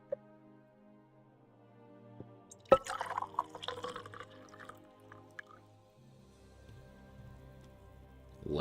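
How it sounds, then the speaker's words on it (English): Last drips of coffee fall into a cup, faint and quiet, over soft sustained musical tones and a single sharp knock partway through. "Last drips of coffee."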